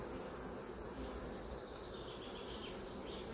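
Honey bees crawling over brood frames in an open swarm hive give a soft, continuous buzzing hum, with a few faint passing whines and no voices.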